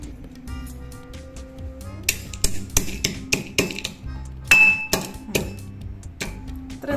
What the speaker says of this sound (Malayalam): ഇനി നമുക്ക് ഇതൊന്ന് ഇടികല്ലിൽ വെച്ചിട്ട് ഒന്ന് പൊടിച്ചെടുക്കാം.